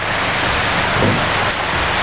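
Heavy rain pours down outdoors in Melbourne, a dense and continuous hiss that stays loud and even throughout, with no voices.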